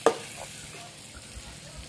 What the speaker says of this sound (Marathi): हे अशा पद्धतीने मटण टाकून ते हलून नंतर मग होतं तयार असं मटण फ्राय.